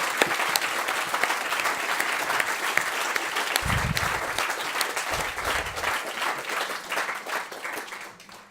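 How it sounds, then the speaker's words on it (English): Audience applause for volunteers at a Surfers Against Sewage talk: sustained, even clapping from a sizeable crowd, fairly distant and steady, tapering off toward the end with a couple of low thumps in the middle. "Can we just have a round of applause for all the volunteers?"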